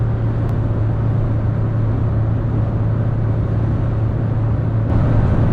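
Inside a Citroen C2 VTR cruising at 140 km/h in fifth gear at about 4000 rpm, a loud, steady engine drone mixes with road and wind roar, continuous and unchanging throughout.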